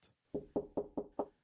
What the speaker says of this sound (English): He came close to Aloysius's door and knocked.